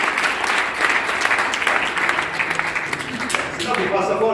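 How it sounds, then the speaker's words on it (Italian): An audience applauds at a blood donor celebration held by a town council, with steady, dense clapping throughout and voices talking over it. "facciamoci un bel applauso."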